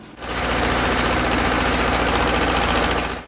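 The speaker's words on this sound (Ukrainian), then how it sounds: "Ліс, якому 5 років і більше, обробляють іншим трактором." A forestry tractor clears the rows between young trees, its engine running as a loud, steady, rough drone with a fast mechanical vibration that starts and stops abruptly.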